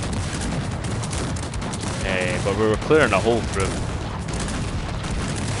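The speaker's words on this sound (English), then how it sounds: "he was obviously shooting a shit ton of his cannons at those barracks" Cannon fire in the real-time strategy game Cossacks 3 during a 2v2 multiplayer match, a dense steady rumble of booming shots running through the whole stretch while someone talks over it.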